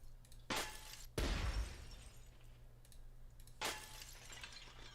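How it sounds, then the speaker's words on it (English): Glass shatters in three sharp crashes, the second one heavy and booming, each trailing off into brief tinkling, heard alone against a quiet background. "And then also glass break."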